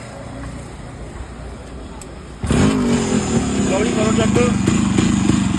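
A Yamaha RX135 motorcycle with a kick-start problem starts up partway through, jumping from quiet to a loud, close two-stroke engine idle that runs steadily while someone talks.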